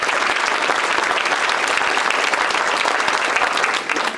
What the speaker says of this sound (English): So please give a round of applause to